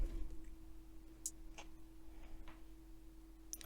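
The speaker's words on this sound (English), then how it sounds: "we're going to have the hi-hat come in." Sparse hi-hat hits in a beat built from a video game toad sample, a few short crisp ticks spaced far apart over a faint steady hum, with no voices.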